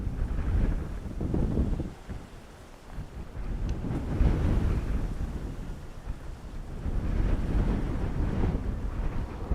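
Strong gusting wind roars across a microphone at Dublin Airport during Storm Floris, a steady broadband rumble that swells and eases in waves with no voices.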